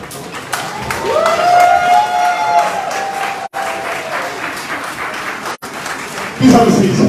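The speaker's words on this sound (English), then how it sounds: "another round of applause" An audience at a formal gathering in London breaks into sustained, dense applause that stays loud for several seconds; a brief whistle-like tone rises over it early on, and a voice cuts in near the end.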